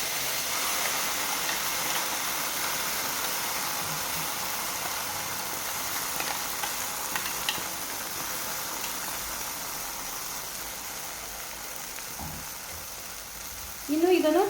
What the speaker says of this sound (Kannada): ಸಣ್ಣ ಉರಿಯಲ್ಲಿಟ್ಟು ಫ್ರೈ ಮಾಡ್ಕೊಳ್ಳೋಣ.